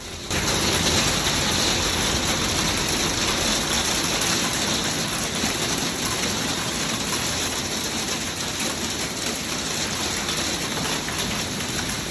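A heavy rainstorm pours down in a dense, continuous hiss of drops, loud and unbroken from start to finish with no voices.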